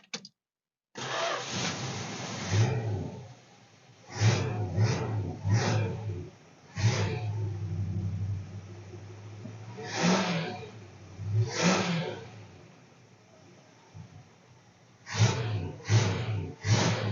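A 1966 Dodge Charger with a 318 V8 and a newly fitted Chinese carburetor cranks, catches and roars into life, followed by a series of loud throttle blips between spells of rough idle, close by.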